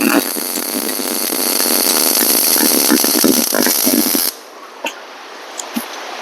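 A welder tacks a locking hook onto the bar of a custom-fabricated weedeater rack, giving a loud, continuous crackling buzz for about four seconds before cutting off, followed by a few faint clicks and taps.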